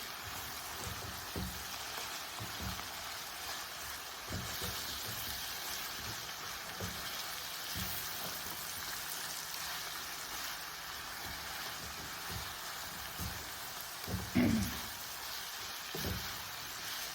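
Food fries under a lid in a pan for a chicken funchoza dish, giving a soft, muffled, steady sizzle with a few dull knocks, quiet and even throughout.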